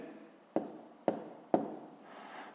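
A pen marks out a maths solution on paper in three sharp taps about half a second apart, each followed by a short scratching stroke, close and quiet.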